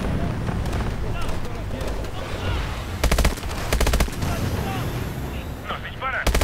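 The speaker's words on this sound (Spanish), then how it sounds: "Nos disparan." Call of Duty Advanced Warfare combat gunfire, dense bursts of automatic shots and sharp cracks, loud and close, repeated volleys with a heavy cluster in the middle, under faint talk.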